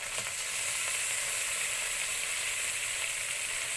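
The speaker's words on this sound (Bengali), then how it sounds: "আদা বাটা আর শুকনো লঙ্কা বাটা দেওয়া হয়েছে একটু নাড়াচাড়া করা হচ্ছে" Ginger, dry red chilli and cumin paste frying in a pan for an egg curry with green mango and coconut milk, a steady, close sizzle with faint stirring scrapes, continuous and alone.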